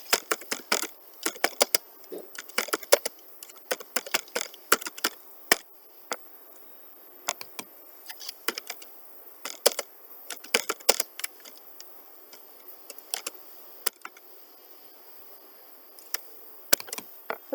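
Someone types on a computer keyboard in irregular bursts of crisp, close clicking keystrokes with short pauses between runs, no talking.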